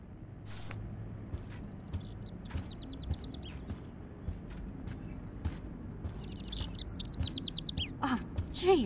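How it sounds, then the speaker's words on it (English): Bird chirps and tweets inside a room in the game Life Is Strange, with short bursts of high chirping around 3 seconds and again near the end, over a steady low background hum and faint movement. "can you help me get this bird out of here?"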